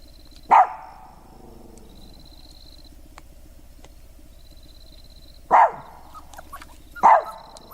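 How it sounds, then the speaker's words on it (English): Dogs at a campsite at night barking into the dark: one sharp, loud bark, a long quiet stretch, then two more barks close together, all fairly near against a faint steady background hum. "his dogs, Mason and Marty, spring up and start barking into the dark"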